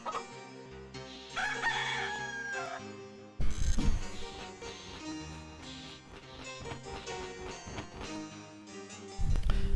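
A rooster crows in the 1996 PC adventure game Discworld II, sounding over a busy layer of game music with a loud burst near the start of its second half.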